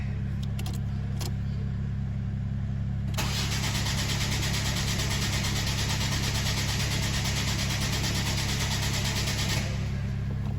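A Ford Focus with an intermittent no-start fault turns over on the starter for several seconds, a steady rhythmic cranking drone that steps up in intensity, then cuts out near the end without catching.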